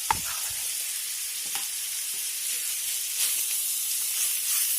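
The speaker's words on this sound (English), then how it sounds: "Put these fresh jalapeno peppers in there and this fresh garlic." Fresh jalapeno peppers and garlic sizzle in a hot pan, a steady bright hiss with small crackles and pops, close and constant with no voices.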